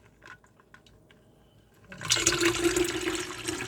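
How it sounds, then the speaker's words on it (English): Homemade mint herb drink poured back into its container, a quiet start giving way to a loud, steady rush of liquid splashing that fills the second half. "And I'm going to pour it in there so it could"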